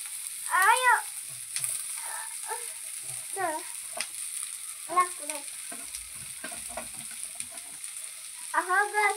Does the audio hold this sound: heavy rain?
no